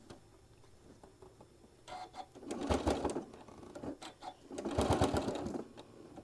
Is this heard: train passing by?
no